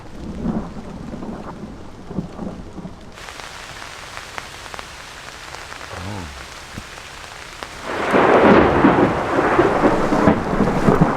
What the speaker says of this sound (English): I was not expecting any thunder and lightning, so this is a strange thing for this late in the year